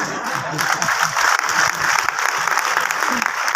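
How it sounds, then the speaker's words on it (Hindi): Audience applause at a live Modicare business seminar: dense, continuous clapping from a large seated crowd, loud and close, holding steady for the whole stretch. "ताली बजाते रहना"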